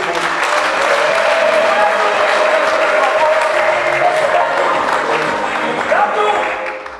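Wedding guests applaud in a dense, sustained burst of clapping from a crowd, with voices mixed in, holding steady before tapering at the end.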